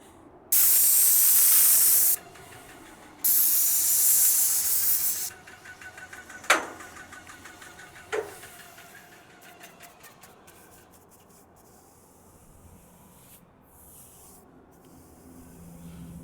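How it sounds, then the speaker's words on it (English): Airless sprayer spraying wood stain onto a log house: two loud, steady hissing bursts of a couple seconds each, followed by softer scrubbing and a couple of sharp knocks as brushing continues. "The most important thing when using an airless sprayer is to make sure you excessively backbrush"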